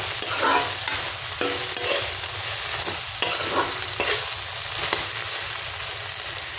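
Chopped onions stirred and fried in an oil-filled pan for a small-fish and taro-stem stir-fry, a steady loud sizzle broken by repeated scraping strokes of the spatula, with no talking.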